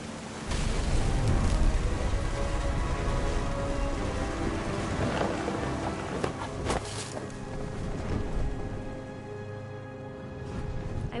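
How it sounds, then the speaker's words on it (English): Rain and thunder in What Remains of Edith Finch, a dense, steady downpour with low rumbling swells and a few sharper cracks, loud and close throughout with no talking. "Thunder sounded much too close and full of angry power."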